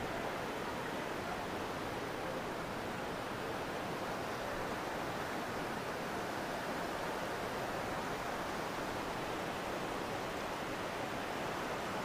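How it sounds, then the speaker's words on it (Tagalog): A waterfall heard from above the falls, a steady, dense roar of rushing water that stays loud and unbroken throughout, with no voices. "So nandito tayo guys sa itaas ng falls nila."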